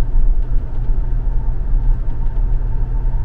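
Hyundai Porter 2 light truck engine pulling steadily up a hill, a continuous low rumble with deep drone close by, loud and even throughout with no talk.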